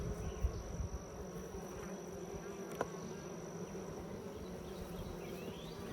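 Honeybees swarm and buzz steadily around an open Layens hive during an inspection, a dense, continuous drone filling the air nearby with a few brief clicks and knocks but no talking.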